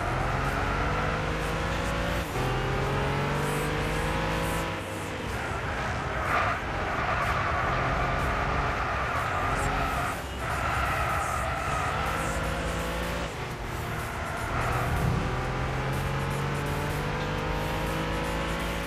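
An Audi race car's engine roars and revs through gear changes during a Gran Turismo 6 race, with repeated rising and falling engine pitch, loud and continuous, with no talking.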